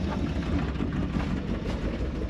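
A Ford F100 pickup truck engine, revived after decades abandoned in a forest, idles with a dense low rumble and rapid ticking from noisy lifters, steady and close.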